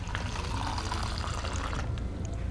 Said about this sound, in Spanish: Un ejemplo sería vertir agua en este contenedor.